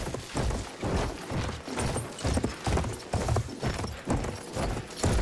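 Horse hooves clip-clop in Battlefield 1, a brisk even gallop with pulsing beats, close and fairly loud over muddy game background noise.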